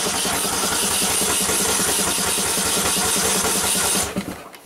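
An engine being cranked and started, a loud, steady rushing churn with a faint rapid pulse underneath that runs for about four seconds and then cuts off abruptly.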